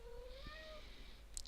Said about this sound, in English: And you can hear my cat in the background.